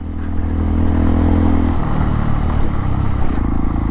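A Honda CRF dirt bike on its stock tires runs loudly close by, its engine giving a steady low rumble with a slight shift in tone partway through. No one speaks.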